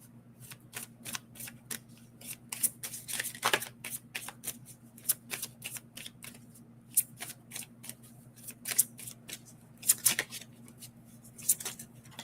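Oracle cards are shuffled by hand in a quiet room, making a steady run of quick papery riffles and flicks with short pauses, close and fairly soft over a low constant hum.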